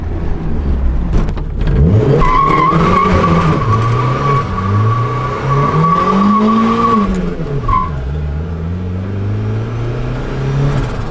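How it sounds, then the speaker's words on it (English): A boosted Mazda Miata doing a burnout: a loud, close engine revving up and down under a sustained high tire squeal lasting several seconds, then cutting off and rising again. "I'm gonna light the tires up"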